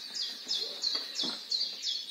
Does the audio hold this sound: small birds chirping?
yes